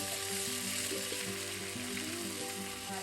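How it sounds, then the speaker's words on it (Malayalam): Curry leaves frying in hot oil for a chicken drumstick fry, a steady dense sizzle throughout with faint metallic clinks from the pan underneath, close and continuous, no voices. "കുറച്ച് കറിവേപ്പില ഫ്രൈ ചെയ്ത്"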